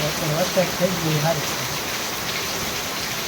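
Steady rain falls in a hiss that holds level throughout, with faint voices murmuring beneath it in the first half.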